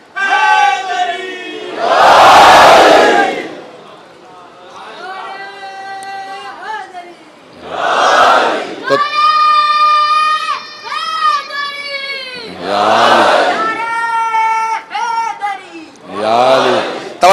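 A large crowd at a Muharram majlis gathering roars religious slogans in unison, loud massed shouts bursting out in repeated waves between passages of a man's amplified, sung oratory.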